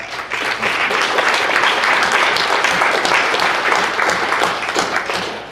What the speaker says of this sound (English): Give my volunteers up here a big round of applause.